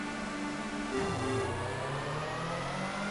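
Touring car engine in the TOCA 2 Touring Cars racing game, bogging down off the grid at Thruxton, a steady loud mid-pitched drone with a falling, sagging note partway through, alone without talk.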